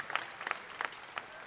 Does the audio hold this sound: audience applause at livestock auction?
yes